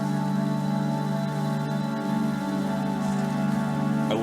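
Rain falling in the video game Death Stranding, a steady dense hiss of drops on surfaces layered over sustained musical tones, with no talk.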